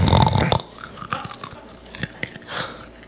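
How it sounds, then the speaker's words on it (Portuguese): Someone chews crunchy food right against a podcast microphone in ASMR style, with a loud first bite followed by irregular, close, wet crunches and mouth clicks, no talking. "Escuta agora ele mastigando."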